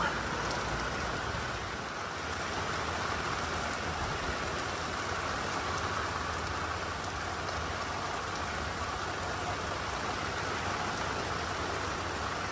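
A heavy, sudden rain downpour on a homestead hisses and patters steadily and loudly across surfaces, a dense unbroken wash of drops with a faint low hum beneath.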